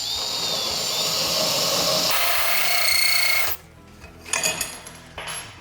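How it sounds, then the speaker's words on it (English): Tube notcher cutting a notch in steel tubing for a welding cart, a loud continuous grinding and whirring cut that stops abruptly, followed by quieter clanks and metallic handling noises. "I love running the notcher."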